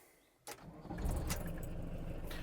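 A retro Volkswagen T3 diesel van engine cranks briefly and catches, settling into a steady, loud, rumbling idle that continues to the end.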